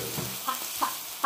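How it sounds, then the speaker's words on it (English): Onions sautéing in oil on a hibachi grill, with soft sizzling and a few brief scraping stirs from a spatula, quiet and close. "let me get some onions. I mean, how about we just oil stuff once it gets on the grill? That'll help. Let me saute my onion."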